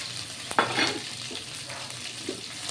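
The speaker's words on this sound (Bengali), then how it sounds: "আদা কুচি দিয়ে দেখুন এটা ভাজা ভাজা করছি" Chopped ginger fries in oil in a pan for a Bengali chhanar dalna, giving a brief sizzle with a short burst of stirring and scraping near the middle, close and moderately loud.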